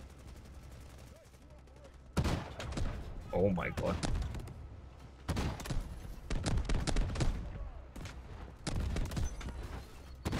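Cannon fire from a car-mounted gun in a first-person shooter video game, loud booming bursts in several clusters with shorter shots between, and a man exclaiming over them.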